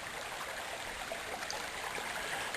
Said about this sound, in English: It's a very windy creek.